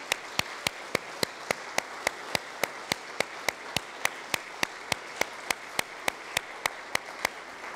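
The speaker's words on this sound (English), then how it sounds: "Let's give them a round of applause." A church congregation at a Solemnity of Christ the King Mass claps in a steady, even rhythm of sharp single claps. The claps sound moderately distant and spacious, with no voices over them.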